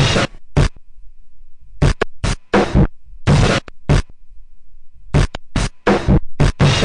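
A distorted drum loop runs through an EMS Synthi filter shaped by an envelope, heard as loud, choppy bursts of noisy hits that alternate with short silences as the filter opens and closes in rhythm.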